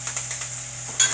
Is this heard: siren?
no